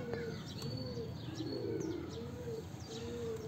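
A pigeon held in the hand gives soft repeated low coos, fairly near and faint, with light chirps from other birds in the background.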